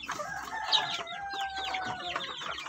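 Pet chickens, including native birds, cluck and chatter close by in a busy overlapping flock, with a rooster-like call rising among the clucks.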